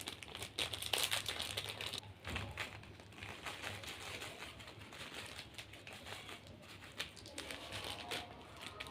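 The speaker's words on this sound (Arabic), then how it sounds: "نبدأ بقى نفضي كيس البصل" A plastic bag of fried onions crinkles and rustles as it is emptied onto a container of koshari, in close, busy crumpling bursts with light taps.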